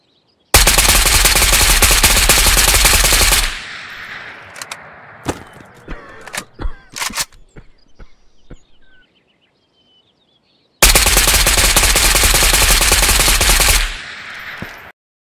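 Gun fitted with an angled grip fires in the VR game Ghost of Tabor: two loud sustained bursts of rapid automatic fire, separated by scattered clinks and faint mechanical handling sounds, then a short silence.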